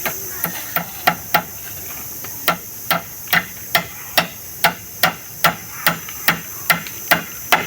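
A hammer strikes nails into wood while a small hut is built, a steady series of sharp, evenly spaced knocks at moderate distance, with a faint background hiss.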